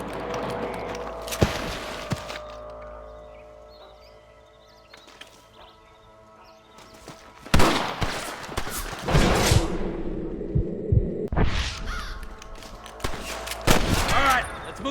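Gunfire in a Red Dead Redemption firefight: scattered broadband cracks and a couple of heavy bursts, loud and close, separated by quieter stretches of game ambience.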